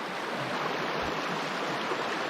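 Crescent Creek rushing along a mountain drainage, a steady, full broadband wash of flowing water heard close and unbroken, with no voices over it.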